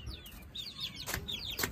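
Chickens clucking and chirping close by in a busy farmyard in the rain as they are shut into their cages, with short overlapping calls over low background noise.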